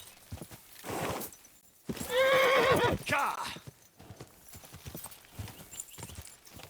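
Horse hooves clip-clop and a loud whinny rings out near the middle, in the game Kingdom Come: Deliverance II, with scattered hoof steps around it and a voice talking faintly.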